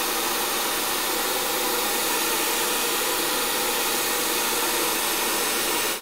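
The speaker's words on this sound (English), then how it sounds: "And I have a Rusk Speed Freak hair dryer" Rusk Speed Freak hair dryer with a diffuser-style adapter blows at full power, a loud, continuous broadband whoosh with an even motor whine, unbroken for the whole stretch.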